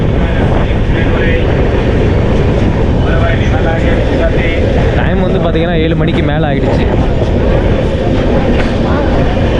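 Loud, continuous rumble and rattle of a moving train heard from aboard a long-distance journey toward Nepal, someone talking over the constant roar of the carriage.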